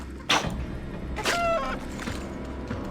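Chicken clucking in King's Quest: Mask of Eternity, a couple of short squawking bursts over steady game ambience, one sharp cry near the start and a longer harmonic squawk after, no talk.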